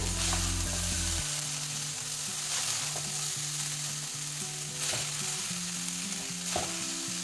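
Cucumber and poha breakfast mixture being stir-fried in a pan, a constant close sizzle with a low background hum and a few light spatula taps.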